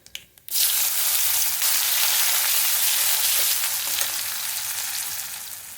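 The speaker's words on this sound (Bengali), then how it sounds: "সামান্য কালো জিরে দেবো একটু পেঁয়াজ" Nigella seeds and onion hit hot oil and burst into a loud, close, continuous sizzle after a brief quiet start, hissing steadily and easing slightly near the end.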